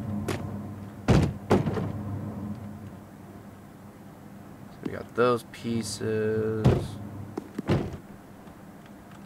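Truck doors for a six-door Dodge 3500 build in Diesel Brothers Truck Building Simulator thud and clunk in a handful of sharp, separate impacts with a few creaking, squealing scrapes between them, while someone talks briefly.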